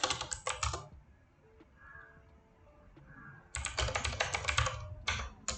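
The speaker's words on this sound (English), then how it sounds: "just type git clone and copy paste it" Close computer keyboard typing comes in quick bursts of crisp key clicks, with a quiet pause in the middle before a second dense flurry of keystrokes.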